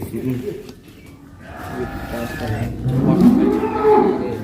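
Jumbo black-and-white cattle moo loudly and close by, with long, low, drawn-out calls that swell toward the end over a noisy farmyard background.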